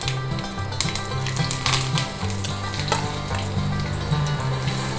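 Mustard seeds, urad dal, a single red chili and curry leaves sizzle in hot sesame oil, a loud, continuous frying hiss with crackling pops and the scrape of stirring, close and without any talking.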